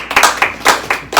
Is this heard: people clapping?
yes